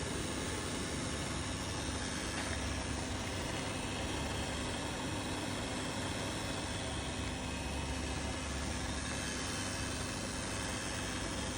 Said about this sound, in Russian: По-моему, ненормальный звук. Как будто какой-то ролик или что-то.